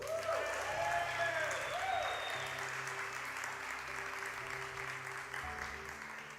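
Church congregation clapping steadily and densely across the whole stretch, loud and fairly close, with a few whistling or vocal tones on top early on and a low background hum.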